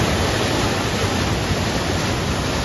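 Flooded Ulhas river rushing past in full spate, a loud, unbroken broadband roar of churning water heard close, with no voices over it.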